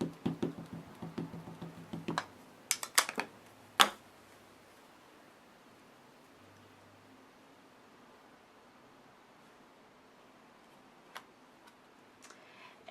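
A rubber stamp is pressed with brown ink onto a tree trunk design in a paper craft, giving a quick run of soft taps and knocks up close, then near silence with one or two faint ticks later.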